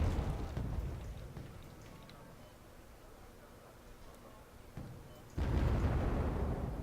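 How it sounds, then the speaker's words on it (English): Challenger 1 tanks and Wilks trade fire in Wargame Red Dragon, heard as muffled distant booms and bursts under a low battlefield rumble, with a sharp louder blast near the end and commentary talk throughout. "The Challenger 1s and the Wilks are exchanging fire."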